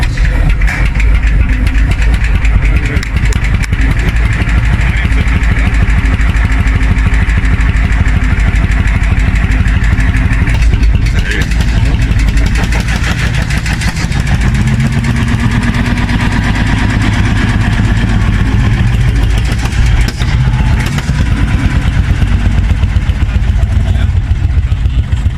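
A 1930s German Lanz Bulldog tractor with a 10.3-liter, 55-horsepower single-cylinder hot bulb diesel runs loud and close with a continuous rhythmic thumping, and voices can be heard faintly over it.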